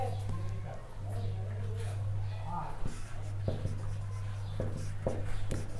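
Pen or marker writing out a maths limit problem for a class 12 calculus lesson, soft scratchy strokes with a few sharper taps, heard over a steady low hum with a voice explaining in Hindi.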